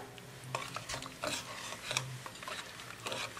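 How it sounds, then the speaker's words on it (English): A spoon scrapes and stirs through creamy Alfredo sauce thickening in a pot, soft intermittent swishes and clinks against the pan, quiet and close with a low background hum. "So we're going to stir this around, see it thickening a bit."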